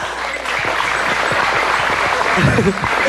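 Studio audience on the Filipino variety show It's Showtime bursts into sustained applause after a dance performance, close and loud with a murmur of crowd noise beneath.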